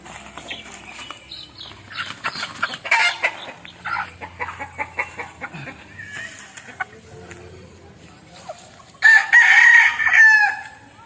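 Backyard pet chickens cluck and chatter close by in bursts, then a rooster lets out one loud, drawn-out crow near the end, with a person talking faintly among them.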